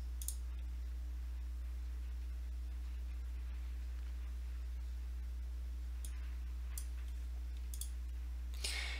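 Several sharp computer mouse clicks, close and faint over a steady low hum, with a click near the start and a cluster of clicks toward the end.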